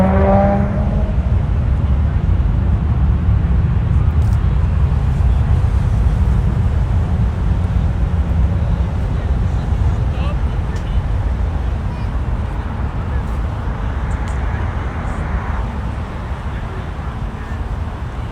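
Steady, loud roar of Turkish Airlines jet engines spooling up at Los Angeles International Airport, a broad rumbling wash heard from a distance that holds constant for the whole stretch with wind buffeting the microphone.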